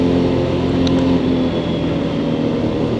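Lexmoto LXS motorcycle engine droning steadily while riding, loud and continuous with a low buzzing tone and no clear change in pace, wind noise mixed in.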